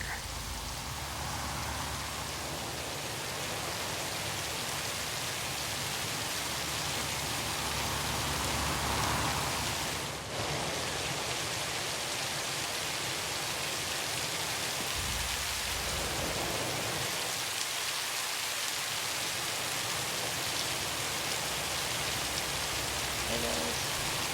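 Steady rain falls across the game world of Satisfactory, a dense, even hiss with a soft low rumble that stays constant and close throughout. A brief, faint voice surfaces partway through.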